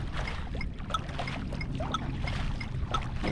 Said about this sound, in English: Paddling into a bit of a headwind now.